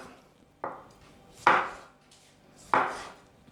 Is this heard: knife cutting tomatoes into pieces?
yes